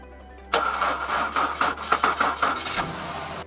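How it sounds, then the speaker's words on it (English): A car engine is jump-started with a NOCO Boost Plus GB40 booster, cranking in a quick rhythmic burst before catching and settling into a steady close idle. "Now, simply press the boost button and start the vehicle."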